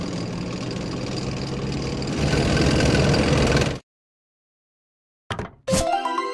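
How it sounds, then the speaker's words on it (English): A tank engine rumbles loudly and steadily for several seconds, swelling slightly before cutting off into silence, followed by a short burst of mechanical noise near the end. "Tank."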